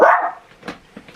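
A single sharp dog bark rings out close and loud in a home, followed by softer sniffs and small whimpering noises, with no talk over it.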